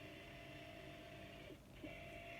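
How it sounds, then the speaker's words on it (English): A printer gives off a steady, low mechanical whir and hum that continues throughout, faint and unbroken apart from a small shift near the end. "I'm sure my printer's just decided to make some noises."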